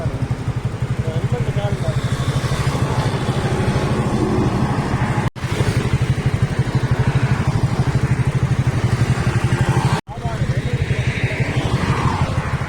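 A Honda Dio scooter fitted with a modified silencer exhaust idles and revs in a steady, loud, continuous drone, cut off by two brief dropouts, with people talking over it.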